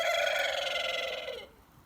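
Bielefelder chicken, a single loud rooster crow held for over a second and then trailing off, close by and alone.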